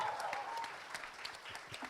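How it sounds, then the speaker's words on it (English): Audience applause for a panel of women comedians at a comedy roundtable, a steady patter of many hands clapping at moderate volume with no talking, sustained through the short stretch. "Can we have a huge round of applause for all of them?"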